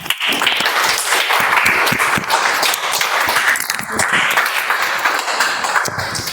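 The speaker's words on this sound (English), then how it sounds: "Please help me welcome with big round of applause Toastmaster Bhima." An audience at a Toastmasters meeting breaks into steady, dense applause, many hands clapping close and loud, holding strong for several seconds with slight dips.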